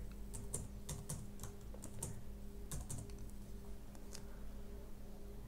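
Faint typing on a computer keyboard while entering input for a WIEN2k calculation, scattered light key clicks in small irregular clusters over a quiet background hum.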